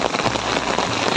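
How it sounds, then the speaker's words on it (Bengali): Heavy rain pours down hard and close, a loud, dense, unbroken hiss of drops drumming on surfaces. "প্রচণ্ড জোরে বৃষ্টি।"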